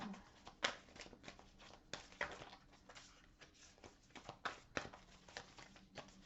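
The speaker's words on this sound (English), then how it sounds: "I didn't even get to shuffle. Okay, let's try that again." A tarot card deck being shuffled during a reading, soft papery riffles and patters in irregular bursts, fairly quiet and close, with no talk over it.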